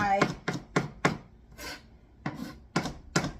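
A knife chops food finely on a cutting board in a string of crisp, evenly spaced strikes. The chopping is close and clear, with a short pause midway.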